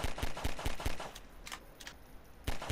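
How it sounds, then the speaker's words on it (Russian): Rapid bursts of automatic gunfire in the video game Garry's Mod, a quick rattling volley followed by a few scattered shots and another burst, loud and close. "Ну, как же все-таки звуки стрельбы громкие."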